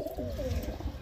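Madras pigeon, a Fulshira female, cooing in a low, soft murmur that runs steadily through the moment, close by and fairly quiet with no talk over it.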